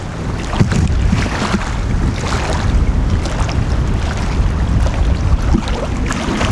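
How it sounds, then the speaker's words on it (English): Strong wind buffeting a car driving on a highway in Michigan, a steady loud broadband roar of rushing air and microphone wind noise that fills the whole stretch without a break. "Listen to that wind."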